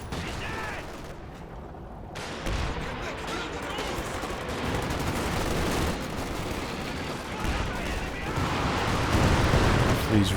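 Rifle fire crackles through a Company of Heroes 2 battle, dense overlapping shots with heavier booms mixed in, continuous and loud across the scene while a voice talks over it.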